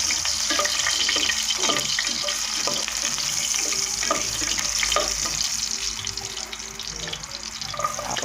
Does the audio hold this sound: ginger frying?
yes